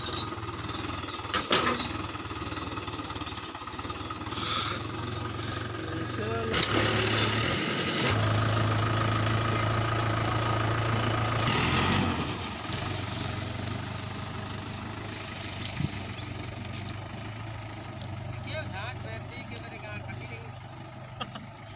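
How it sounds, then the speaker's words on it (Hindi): A loaded truck with a trolley runs its engine in a low, steady rumble that swells and eases across the stretch, while people talk over it. "देख सकते हो ट्रक जा रहा है"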